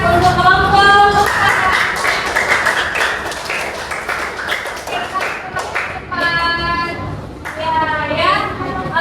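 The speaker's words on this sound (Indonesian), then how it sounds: "Oke, silakan tepuk tangan untuk kelompok" A group of people in a classroom give a burst of clapping, loud and close, while voices talk and call out over it, and the applause thins and returns in patches.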